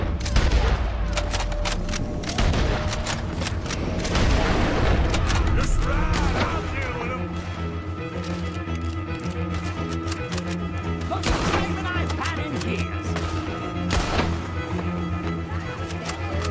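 Rapid gunfire rattles through a Red Dead Redemption 2 gunfight, dense volleys of loud close shots and booms repeating throughout, with sharper isolated cracks punctuating the steady barrage.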